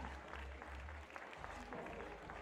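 A home crowd at an ice climbing competition applauds and cheers an athlete in a short burst of dense clapping, with a commentator's voice running over the noise.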